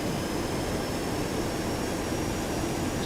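Boeing 737-200 jet engines at high thrust in X-Plane, a dense constant roar with a faint high whine, steady and loud throughout, no talking.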